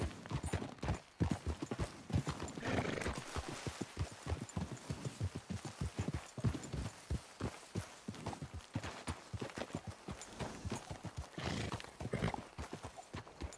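Horses in Red Dead Redemption 2 trot with rapid, close clip-clop hoofbeats on hard ground, broken by whinnies and neighs, with occasional brief voices.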